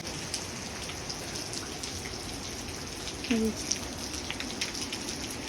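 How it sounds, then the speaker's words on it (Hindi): Steady, dense hiss of heavy fine rain pouring continuously in the mountains, close and even throughout with no pauses. "बारीक बारीक बारिश बहुत तेज़ हो रही है"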